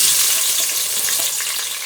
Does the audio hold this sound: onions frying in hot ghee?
yes